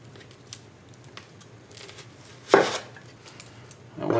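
Steelport 8-inch chef knife cuts through an onion on a board, giving a few sharp crunching chops and a final louder slice, with quiet pauses between strokes; close, no talk.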